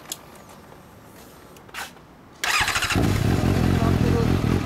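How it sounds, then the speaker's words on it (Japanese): A 2014 Suzuki GSR750 ABS fitted with a Yoshimura exhaust fires up after a quiet stretch with a couple of brief noises, then settles into a loud, close, throbbing idle that runs steadily to the end. "まだ吉村のエンジン音聞かせてもらえる？"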